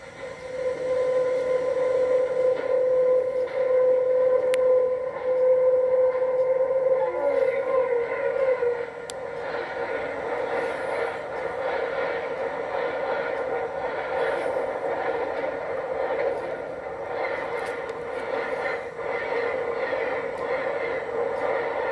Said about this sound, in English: number 105 rolls south across a steel bridge with a train of auto racks and